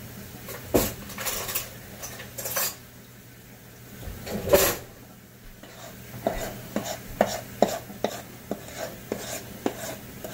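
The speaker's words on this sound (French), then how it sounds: "avec une grosse cuillère de métal aussi, vous allez gratter bien votre fond" A large metal spoon scrapes and knocks against the bottom of a bowl of brownie batter, producing a string of sharp, close clinks and scrapes that grow more regular toward the end.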